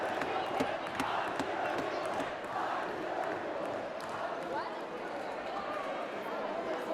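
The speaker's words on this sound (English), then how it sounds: "getting the crowd pumped up" A loud crowd in a packed high school gym roars and cheers steadily during a tied boys varsity basketball game late in the fourth quarter, with a dense wash of voices and a commentator talking over it.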